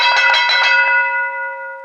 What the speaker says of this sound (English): When the bell rings, they switch to the other topic.